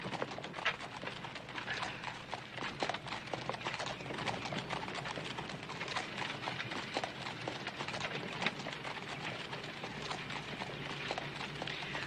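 Horse hooves clip-clop steadily along a hard surface, a continuous busy clatter with no pauses and no voices.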